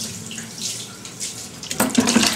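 Water is poured over a small child's head during a bath in Tirupathi, with soft trickling and splashing that swells into louder splashes near the end, close by.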